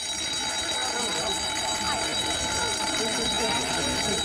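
A continuous high electronic alarm tone rings steadily throughout, loud and unbroken, over a faint background hum.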